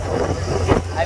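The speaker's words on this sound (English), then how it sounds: "It's windy." Gusty wind buffets the microphone with low rumbling bursts, steady and close throughout the short moment, on a boat trip to Comino, Malta.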